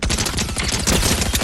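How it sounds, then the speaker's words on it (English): Gunfire in the Fortnite video game, a loud, dense volley of rapid shots and impacts that fills the whole moment without pause. "The shotgun is so bad, I hate it."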